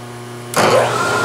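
Power drill driving a large tap using a chuck key, a low motor hum that suddenly bursts into a loud whirring grind halfway through and keeps running close up.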